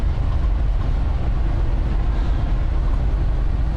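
A long freight train with a mid-train DPU locomotive rolls past close by, a loud, steady low rumble with dense rail noise that never lets up.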